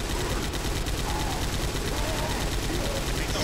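Incendiary bullets fire in Left 4 Dead as a dense, continuous rattle of rapid gunshots with no gaps, loud and steady throughout, with game noise layered underneath.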